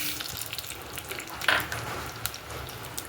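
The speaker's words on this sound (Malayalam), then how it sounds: "അതിലേക്ക് ആദ്യം തന്നെ നമ്മുടെ ഉലുവയും ഇട്ട് കൊടുക്കുക കേട്ടോ." Fenugreek seeds frying in a clay pot on a gas stove give a steady close sizzle, with a sharper crackle or scrape midway and no talking.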